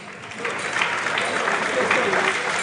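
Audience applause at the NSMQ 2024 grand finale quiz, a dense steady clapping from a large crowd with a voice speaking over it.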